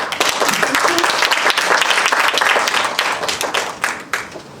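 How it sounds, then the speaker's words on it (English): Loud, dense audience applause with many hands clapping at the close of the final conference session of the day, fading slightly toward the end. "A round of applause."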